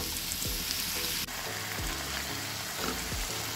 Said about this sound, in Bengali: এবার দিয়ে এটা কিছুক্ষণ আমি একটু ভালো করে নেড়ে চেড়ে ভেজে নেব।